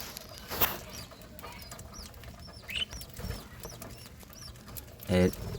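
Pigeons in a backyard breeding colony, with many young chicks in clay nesting pots, give faint, scattered chirps and brief wing flaps over a low, steady background hum.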